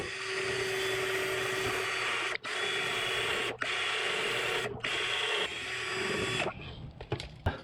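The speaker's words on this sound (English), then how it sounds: "So I drilled a 1/2 inch hole" A drill boring a half-inch hole for a fuel line on a Mega Moto 212 mini bike grinds steadily and loudly in several bursts, with brief pauses between them and a winding down at the end.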